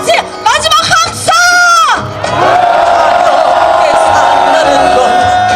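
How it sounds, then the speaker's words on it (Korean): A crowd of marchers at a 2013 Korean citizens' street march against the National Security Law lets out a loud rally cry, with scattered whoops and yells first, then a sustained, massed roar of shouting voices. "다 같이 마지막 함성!"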